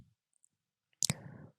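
A computer keyboard key press for Ctrl+Enter gives a sharp double click up close after near silence, followed by a brief low rustle.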